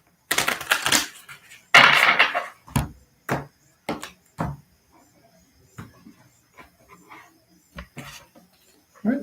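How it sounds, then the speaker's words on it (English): A deck of tarot cards is shuffled in a series of separate short riffles and taps, crisp and close, with irregular pauses between bursts. "Sometimes I have to shuffle this a little bit longer."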